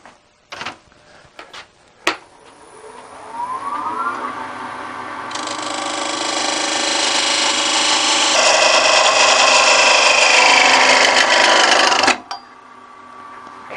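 A thin parting tool cuts into wood for a knockout bar: a few sharp knocks, then a scraping, hissing cut that swells louder over several seconds before stopping abruptly, leaving quiet.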